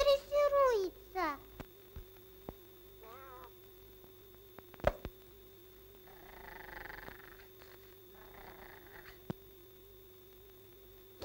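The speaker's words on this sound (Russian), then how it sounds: "А это кошка Усик." A cartoon cat in a 1940 animated film gives a couple of rising and falling meows at the start. Voice-like chirps and sparse clicks follow over a quiet steady hum.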